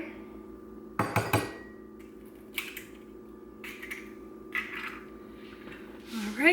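Brown organic eggs are beaten in a bowl in a home kitchen, beginning with a quick cluster of sharp clinks against the bowl, then softer intermittent taps and whisking scrapes, close and fairly quiet.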